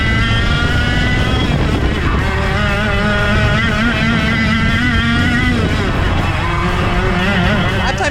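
A racing kart engine revving to around 17,000 to 18,000 RPM screams loudly, its pitch rising and falling as it changes speed, with another engine droning steadily beneath it.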